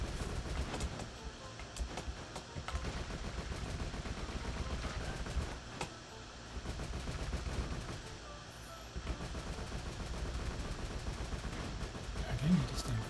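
A character in the video game Skul fires projectiles in rapid bursts of sharp shots that sound like gunfire, repeated steadily over game music and effects.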